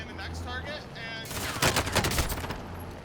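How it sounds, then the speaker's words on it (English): Rapid gunfire in a video game shoots through a truck's side window, a burst of loud sharp shots after a moment of game sounds, dense and close. "They shot him through the window, his side window."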